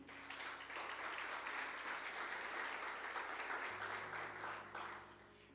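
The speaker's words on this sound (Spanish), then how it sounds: "Denle un fuerte aplauso al Señor." A church congregation applauds in a steady, full burst of clapping lasting several seconds, heard at a distance and fairly faint, with a low background hum.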